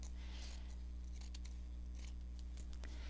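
Scissors snip through paper to trim the top off a junk journal topper, a few quiet crisp cuts close by over a low steady hum.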